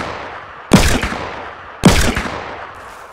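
Video game gunfire: two loud, close shots about a second apart, each a sharp crack followed by a short ringing tail, with quiet between them.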